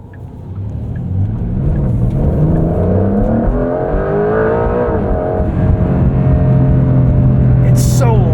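Inside the cabin of a 2025 Porsche 911 GTS (992.2), the engine revs loudly and climbs through the gears with a rising, dipping, then rising drone that stays close and prominent throughout, ending with a brief high click.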